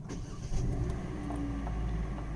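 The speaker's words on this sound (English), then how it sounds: "then come back and start the car" A 2018 Hyundai Elantra starts up after an oil change, its engine catching and settling into a quiet, steady low rumble, faint and alone with no voices.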